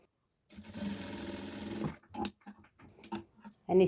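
A sewing machine stitches a bra, running in one steady rattling burst of about one and a half seconds, followed by a few short stop-start runs, close and alone.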